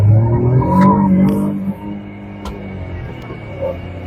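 A Maruti Dzire AMT car runs in manual mode, its engine note rising and then dropping as it downshifts. The engine hums steadily and close, with a brief click midway.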